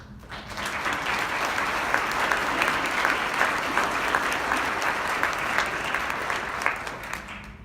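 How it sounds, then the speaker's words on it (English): An audience at a conference event gives a round of applause, steady and even clapping from a room full of people with no one speaking over it. "I think they all three deserve a round of applause."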